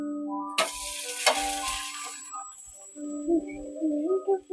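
Dosa batter frying on a pan over a medium gas flame, with sharp sizzling bursts as batter meets the hot surface, then softer crackling and light scraping close by.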